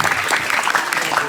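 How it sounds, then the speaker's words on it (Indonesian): An audience at an Islamic boarding school science gathering breaks into close, lively applause, a dense patter of clapping that may carry faint voices mixed in. "Tepuk tangan semuanya, luar biasa."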